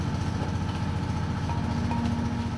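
Engine of a small fishing boat taking on water, running in a steady low chugging drone with a faint tonal hum, continuous and fairly close with no voices.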